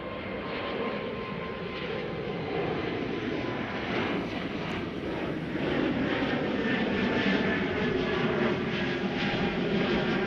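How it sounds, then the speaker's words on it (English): An Air Baltic Airbus A220 jet departs Schiphol for Tallinn, its engines a loud sustained roar that swells slightly as it passes, with no voices. "Here we have Air Baltic going to Tallinn. A220, flight 858."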